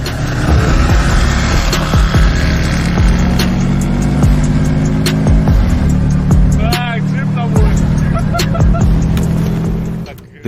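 A silver Subaru Forester SG races a manual-transmission Golf, loud engines roaring and revving close by without letup before easing off at the very end, with faint voices underneath.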